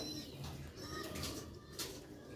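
Pigeons of a Sialkoti rooftop breed coo close by in a few soft, low rolling calls, with no talking over them.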